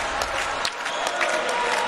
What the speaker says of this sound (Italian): ora anche i tifosi locali che si scaldano ad incitare i propri beniamini